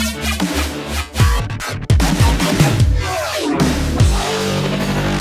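The Marching Flow synth wavetable preset plays with post-processing: loud, rhythmic bursts of gritty swept bass hits and sharp transients pulsing in a marching pattern, alone with no voices.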